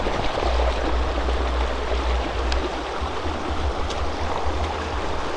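A beautiful Canary Islands river flows in a steady, broad rush of water, close and continuous throughout, with a deep low rumble underneath and no voices.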